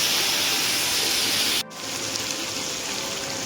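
Steady bright sizzling hiss of spices frying in ghee, loud and close, briefly cutting out partway through before resuming slightly quieter.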